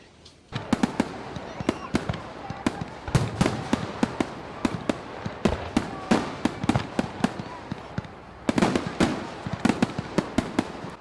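A riot of New Year's Eve fireworks goes off from all directions, dense bangs and crackles bursting in rapid irregular succession, some loud and near, others more distant, with no pause across the whole stretch.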